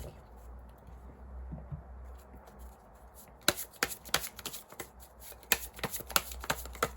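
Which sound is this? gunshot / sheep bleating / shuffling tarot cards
shuffling tarot cards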